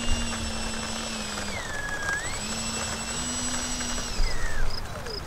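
An FMS A-10 RC jet with twin 70mm electric ducted fans taxis close by, giving a steady high whine whose pitch glides down and back up as the throttle changes, with no one talking.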